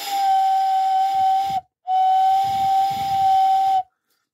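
A Lionel toy train whistle tender blown into by mouth gives two steady, loud, breathy whistle blasts with a short gap between them, each with a hissing, steam-like edge.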